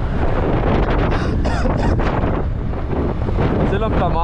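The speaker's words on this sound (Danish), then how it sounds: "Hold kæft, hvor der var vind" Strong wind buffets the microphone continuously while riding a PGO scooter, a loud, steady rumbling roar with faint engine and road noise beneath.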